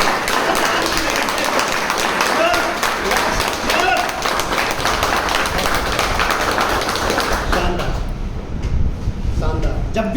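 An audience claps hands loudly together, a dense, continuous patter of rapid claps that carries on for the whole stretch, with a voice faintly underneath.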